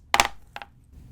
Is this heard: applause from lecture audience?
no